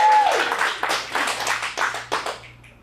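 Live audience applauding at an adult dramatic acting showcase after a performer is introduced, a sustained burst of clapping that swells with irregular peaks and then fades out.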